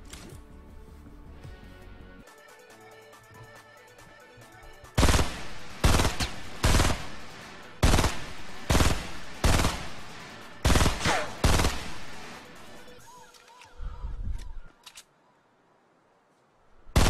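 Rapid bursts of gunfire in the video game Fortnite, loud and close, firing in a run of sharp repeated volleys for several seconds after a quieter stretch of game sound. No voices are heard over the shots.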